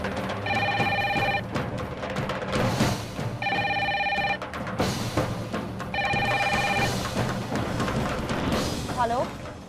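A telephone rings indoors in three evenly spaced electronic bursts, each lasting about a second, over a busy background of voices and room noise.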